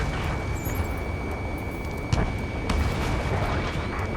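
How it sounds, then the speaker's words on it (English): Dense gunfire and a roaring jet wash fill an Ace Combat 7 battle over a city under martial law, with a continuous, heavy rumble broken by sharper bursts and one louder thud near the middle. "The city under martial law, gunfire and a roar of jets echoing through the streets"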